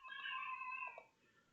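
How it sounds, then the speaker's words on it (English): A house cat meows once in the background, a clear, fairly quiet drawn-out meow lasting about a second, with no talk over it. "Oh, that's my kitty cat in the background."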